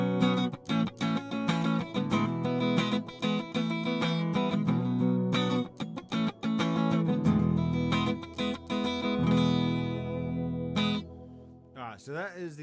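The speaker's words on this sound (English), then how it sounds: "So that is the sound of an impulse response acoustic guitar." An acoustic guitar tone modeled through a Headrush unit using a Martin 45 impulse response: strummed chords and picked notes in a steady rhythm, loud and close, ending with a short decaying ring.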